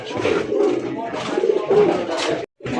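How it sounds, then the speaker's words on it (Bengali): German shield pigeons coo in low, throaty rolling bursts, close and repeated, one call overlapping the next with a brief silence before another begins. "এক জোড়া জার্মান শিল কবুতর"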